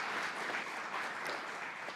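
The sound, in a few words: audience applause at city council meeting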